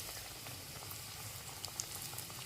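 Khari biscuits deep-frying in white oil give a faint, even bubbling hiss with tiny crackles, continuous and quiet throughout.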